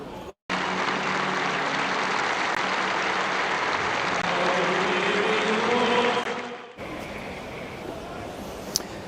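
A huge crowd of mourners from around the world bursts into sustained applause and cheering as Pope Francis's coffin is carried into St. Peter's Basilica, a broad continuous roar that holds for about six seconds, then cuts off abruptly.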